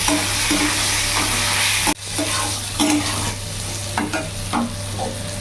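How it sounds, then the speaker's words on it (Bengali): Pointed gourd pieces fry with turmeric powder and salt in a pan, a loud continuous sizzle with scraping stirs, then a sudden dip and quieter crackling with spatula knocks. "হলুদ গুঁড়ো দিয়ে দিলাম, লবণ দিয়ে দিলাম, একটু লাল লাল করে ভেজে নেব।"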